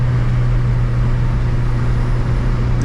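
Turbocharged Honda F20B car engine running, a loud, steady low droning hum close up with no change in pitch.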